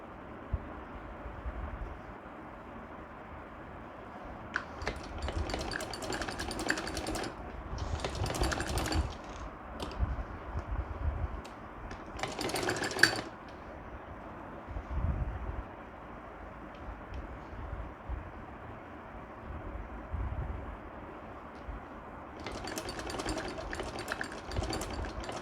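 Bursts of sewing machine stitching along the edge of a kurti button neck, with folded fabric being stitched at the side. The close, whirring runs come in several separate spells with pauses between them.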